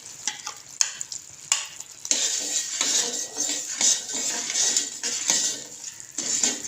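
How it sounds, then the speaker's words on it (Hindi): Sugar and ghee bubble together into syrup in a pan for sooji halwa, a bright steady sizzle with repeated metal spoon scrapes and clinks as it is stirred, no voices. "चीनी और घी को हमने अभी अच्छे से पकाना है।"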